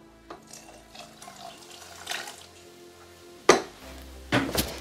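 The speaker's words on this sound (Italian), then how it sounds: "Aggiungere l'acqua." Water being poured into a Thermomix TM6 for ragù bianco, a soft trickle with intermittent splashes and two louder pours toward the end, close and clear, with no talking.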